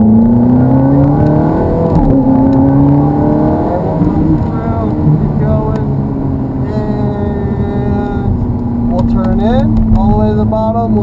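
Ferrari F430 accelerating on the Hallett Motor Racing Circuit, a loud sustained engine drone rising and falling in pitch as it revs through gears, heard from inside the car with people talking over it.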